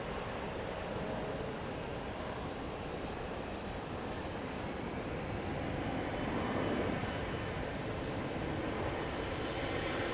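Broad, steady roar of an airliner departing Houston's IAH airport, runway 15 left, a continuous far-off engine rumble that swells slightly midway, with no voices.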